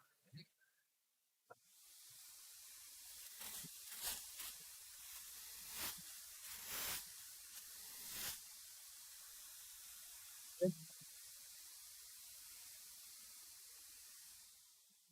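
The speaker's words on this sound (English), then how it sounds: "Let me get my dust hose out and dust this off." Compressed air from a dust hose blasts dust off a workpiece, a sustained airy hiss that starts after a couple of quiet seconds and keeps going with a few louder bursts, plus a faint clunk partway through.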